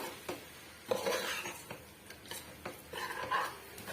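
Banana flower being sautéed in a pan for gravy, with soft scraping and clinking of a spatula against the pan in irregular strokes and a faint background hiss, close and moderately quiet.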